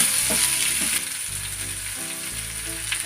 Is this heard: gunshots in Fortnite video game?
no